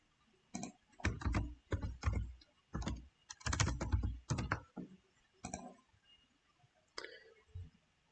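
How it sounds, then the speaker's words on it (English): Bursts of keystrokes on a computer keyboard, typing text in Farsi, come in clustered runs of clicky taps with short pauses, close and moderately loud. "Type in Farsi."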